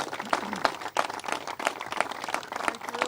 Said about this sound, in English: I want to give her a round of applause for her amazing leadership.